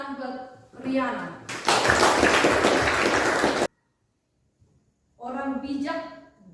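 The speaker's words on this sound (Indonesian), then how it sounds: "Tepuk tangan buat Riana." A classroom group breaks into a burst of clapping lasting about two seconds, with people talking before the applause and again after a short pause.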